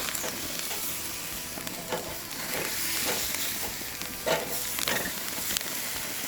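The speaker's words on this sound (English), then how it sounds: "Hope y'all can hear that searing a little bit." Tri tip steak sears over a wood fire on a Santa Maria cooker, giving a steady close sizzle and hiss with scattered crackles and pops, with no talking.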